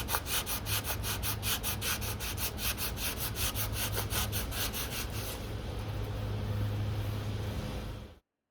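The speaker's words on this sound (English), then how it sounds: "shape it using a hand plane and sandpaper" Steady back-and-forth rubbing of sandpaper on mahogany, quick rhythmic strokes up close over a constant low hum, then smoother rubbing before it cuts off.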